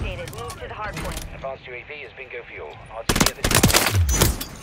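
An FR 5.56 assault rifle fires in a video game, a loud rapid burst of shots cutting in partway through, following a stretch where someone talks over faint game sounds.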